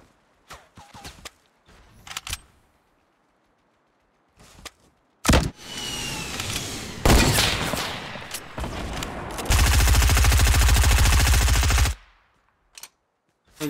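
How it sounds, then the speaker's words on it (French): Enemy gunfire erupts in Fortnite, isolated sharp shots early on, then loud sustained automatic bursts and a dense roaring stretch of rapid fire that cuts off abruptly, followed by a few stray shots. "un mec qui me tire dessus"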